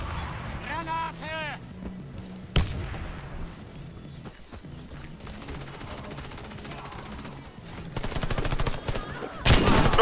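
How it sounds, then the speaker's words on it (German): Gunfire and an explosive blast in a first-person shooter match on the Bridges map, with rapid shots running through and sharp, loud bursts near the middle and at the end, under game voice callouts. "Granate!"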